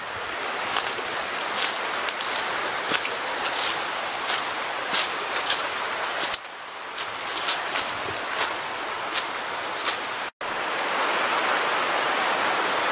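Flowing creek water heard while someone crosses the creek off-trail, a steady loud rushing wash broken by a few brief dropouts, close by and with no voices.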